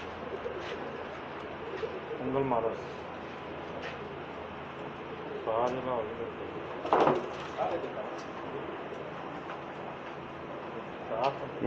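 Pakistani pigeons in a pigeon shop in Jeddah coo in repeated low, warbling bursts spaced several seconds apart, close by, over a steady murmur of room noise.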